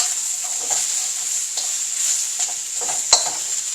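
Carrots, green beans, celery and zucchini sizzle steadily in a hot wok, a constant hiss with occasional stirring clinks and scrapes, one sharper metallic tap near the end, no talking.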